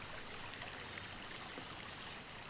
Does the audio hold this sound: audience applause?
no